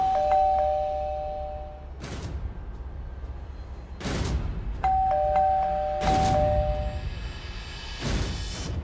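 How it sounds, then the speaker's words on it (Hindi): A doorbell rings twice in a Hindi TV drama, each a bright two-note ding-dong, set among heavy, sharp dramatic impact hits and a steady low background. "कब से डोरबेल बज रही है"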